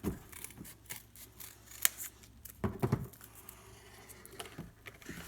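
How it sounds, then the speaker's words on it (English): Scissors cut cardboard loom strips in half, giving several close, sharp snips and crunches spaced irregularly over a few seconds, with light handling noise between cuts. "I might cut them in half again, so we have enough room."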